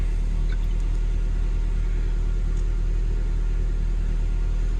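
A Toyota Tacoma pickup's 2RZ four-cylinder engine idles steadily with a low, constant rumble, fresh spark plugs fitted after a violent shaking misfire, heard close with no talking.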